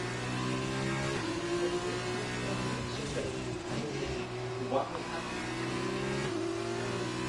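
F2 race car engines at Monza in a racing video game, a steady high whine that climbs through gear shifts with several cars droning together, continuous and close.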